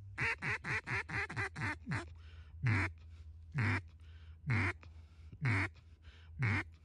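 A duck quacks loudly and close by during a duck hunt: a rapid run of seven quacks, then single quacks spaced about a second apart.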